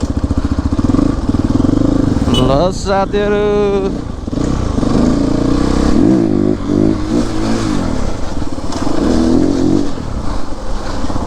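A CrossX 300 motorcycle engine idles and then revs, its pitch climbing sharply in one burst before settling back to a rough, steady rumble, while someone talks over it.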